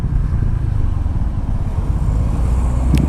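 Honda PCX 125 scooter being ridden on the road, its engine a steady, close, continuous drone with road and wind rumble throughout, no gear changes, and a brief clatter near the end.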